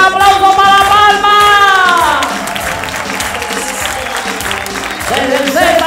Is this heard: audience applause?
yes